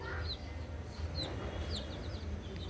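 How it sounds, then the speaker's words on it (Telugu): Two small chicks sit together in a home in Telugu-speaking India, their faint high peeps and short chirps scattered over a steady low background hum. "చూడండి ఈ 2 కోడి పిల్లలు"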